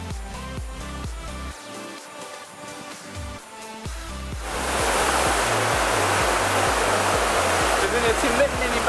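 Rhythmic, beat-driven music plays first, then a jungle waterfall along the Road to Hana takes over. The water roars in as a dense, steady rush that fills the rest of the clip.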